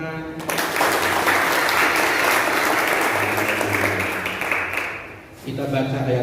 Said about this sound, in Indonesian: Yang katakan boleh dong tepuk tangan.